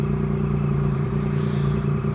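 An old Ducati motorcycle engine running close by, a steady loud low throb with a harsh mechanical clatter that holds evenly throughout without pauses.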